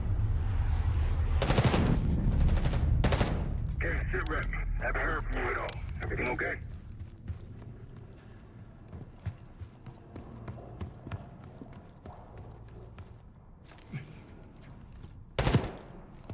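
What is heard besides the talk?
gunfire in a video game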